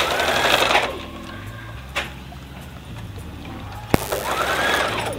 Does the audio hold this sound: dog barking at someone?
no